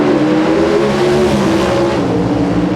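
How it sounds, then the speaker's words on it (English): At the 1993 NHRA Mile-High Nationals at Bandimere Speedway, Ford and General Motors drag racing cars hold a loud, steady, droning engine roar up close as the revs rise for the start. "The RPMs come up for the start of this first race in round"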